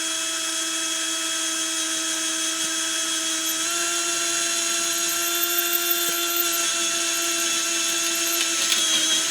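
A power drill bores through a steel helmet, whining steadily and loudly without pause, its high motor pitch holding nearly constant throughout.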